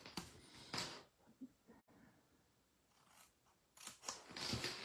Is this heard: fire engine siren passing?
no